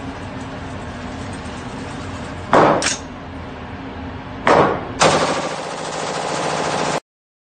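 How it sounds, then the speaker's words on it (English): An automatic AR rifle fires in a replayed recording, with two short bursts of loud cracks and then a sustained rapid stream of shots. A steady hiss and hum sit under the bursts, and the sound cuts off abruptly at the end. "Then I had another joint shooting an automatic AR."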